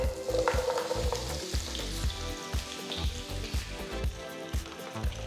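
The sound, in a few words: potatoes frying in oil in pan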